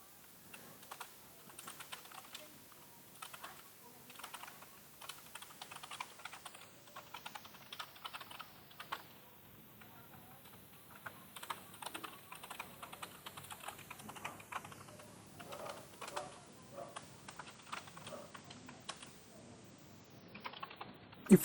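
Steady computer-keyboard typing while code is written in an editor, a continuous run of quiet, quick key clicks with irregular bursts and short pauses, close but faint, with no voices.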